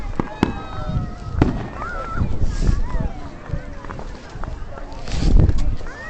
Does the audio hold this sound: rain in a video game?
no